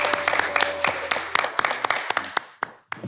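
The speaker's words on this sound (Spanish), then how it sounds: "señoras y señores, un aplauso" A small studio audience claps in brief, uneven applause with distinct individual claps rather than a full roar, fading out after a few seconds.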